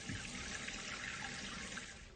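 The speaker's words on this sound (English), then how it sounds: "turn on the water supply valve and the tank will begin to fill" Toilet tank filling after the supply valve is opened, a continuous hissing rush of water through the fill valve, steady and close, with no talk over it.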